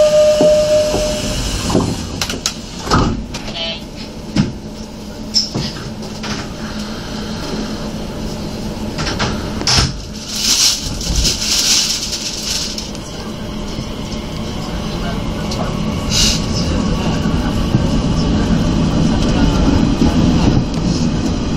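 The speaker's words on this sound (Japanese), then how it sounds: "この電車は小郡行き急行です。" A Nishitetsu express train runs out of Fukuoka (Tenjin), heard from the front of the car: a steady rumble and hiss that slowly grows louder, with scattered clanks and brief higher tones.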